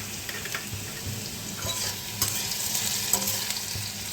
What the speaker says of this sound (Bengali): আলুটা ভাজা হয়ে যাচ্ছে।